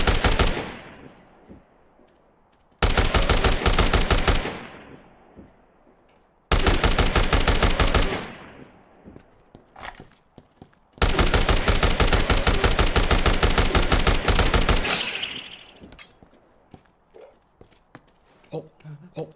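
Long, loud bursts of automatic gunfire from the game Dead Rising, several sustained volleys separated by short quiet gaps with scattered single shots in between.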